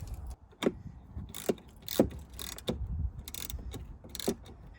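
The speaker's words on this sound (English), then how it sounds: "We're just going to tighten them down with the supplied T30 torque key." A T30 torque key or small ratchet tightens screws while fitting a trunk storage plate in a Jeep JLU, giving a series of sharp close clicks and metallic ratchet ticks at irregular intervals over faint background noise.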